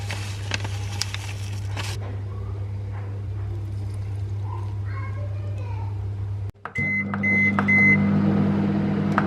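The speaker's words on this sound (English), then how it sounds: "I managed to make it spill over in the microwave." A microwave oven heating porridge, its low steady hum running for several seconds before stopping, followed by a series of beeps.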